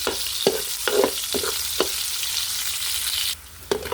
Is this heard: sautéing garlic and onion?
yes